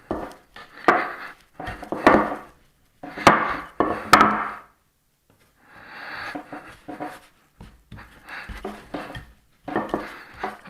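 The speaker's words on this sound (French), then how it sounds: "Donc je vais étaler une première fois ma pâte." A rolling pin works puff pastry dough studded with butter on a hard surface, giving bursts of thudding, scraping knocks separated by short pauses, close and fairly quiet with no talking.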